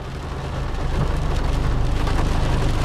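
Heavy rain pours steadily during a strong thunderstorm in Agadir, Morocco, a dense continuous wash of close downpour with a low rumble underneath and no talking.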